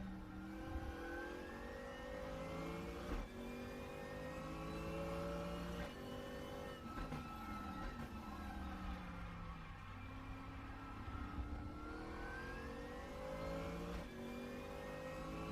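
A race car engine in the RaceRoom racing game revs hard and continuously, rising and falling through gear shifts at close range with no talk over it.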